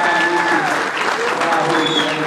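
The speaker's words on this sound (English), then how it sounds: "Once again, a big applause to this" Applause for the family at a wedding ceremony, a steady wash of clapping from the gathered guests with tonal voices and music threading faintly beneath throughout.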